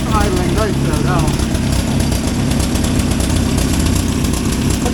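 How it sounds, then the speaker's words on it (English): A 1963 Hillman Super Minx engine idles steadily, a loud, even mechanical drone running throughout while someone talks over it. "The motor runs really nicely."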